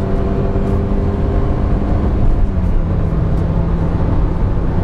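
Inside a Qoros 3 sedan on the move, the engine buzzes in a steady loud drone, mixed with road and tire noise and a constant cabin rumble throughout.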